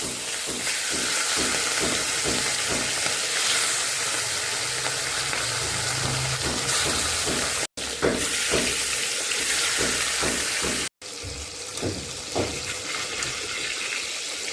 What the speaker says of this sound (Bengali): কড়াইতে তেল দিয়ে দিচ্ছি, তেল গরম হয়ে গেছে। এখন দিয়ে দেবো মাছ।